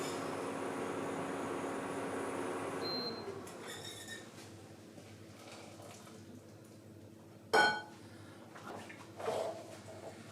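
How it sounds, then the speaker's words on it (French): Hot cream poured from a pan over chocolate to make chocolate truffles, a soft, steady liquid pour that fades out after about three seconds, followed by quieter kitchen clatter and a sharp utensil knock. "donc je vais verser sur mon chocolat"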